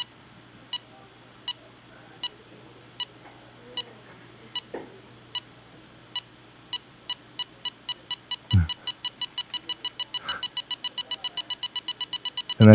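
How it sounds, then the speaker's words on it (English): Electronic beeps from a breadboard circuit tick at a steady, spaced pace, then quicken sharply into a rapid run of pulses that nearly blur together, close and clear with a low hum beneath. "So I got this little beeping circuit, and then it'll get to a certain point and it'll actually speed up"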